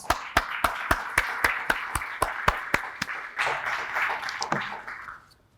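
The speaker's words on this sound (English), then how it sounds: "please welcome Dr. Minjee Kim with a warm round of applause" An audience claps to welcome a speaker at a talk on hanbok history. Sharp, evenly spaced claps open the clip, then swell into a brief general applause that fades out.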